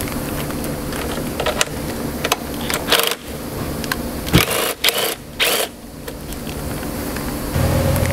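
A ratchet works a 10 mm nut off the stud of an EGR valve bracket beside a coolant pipe, giving close, rapid clicking runs with short breaks and a few sharper knocks in between.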